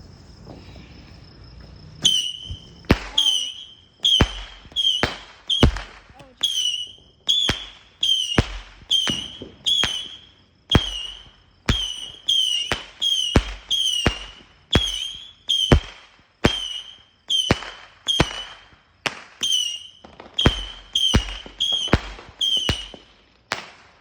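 A Fourth of July firework cake shoots off in a long run of sharp, loud cracks, each launch followed by a whistling fizz, firing in a fairly steady rhythm at close range.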